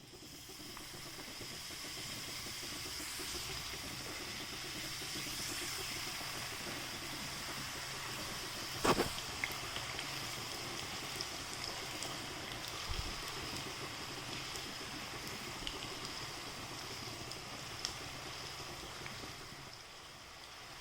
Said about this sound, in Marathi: शंकरपाया कट करून झाला आता आपण त्या तळून घेऊ